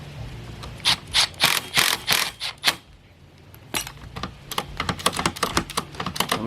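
Ratchet mechanism in the up-down seat height lever of a Volkswagen GTI being worked by hand: quick bursts of sharp, close clicking, a short pause, then another run of rapid ratcheting clicks.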